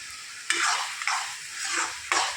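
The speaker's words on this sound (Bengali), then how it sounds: "যতক্ষণ অবধি না তেল ছেড়ে দেয় ততক্ষণ অবধি এটাকে আমি নাড়াচাড়া করে নেব সুন্দর করে একদম" Soybean curry frying in oil as it is stirred, a continuous sizzle rising and falling with each push of the spoon, with sharp scraping strokes against the pan at intervals.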